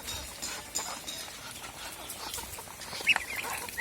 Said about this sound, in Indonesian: hujan-hujan begini ayam bebek pada lapar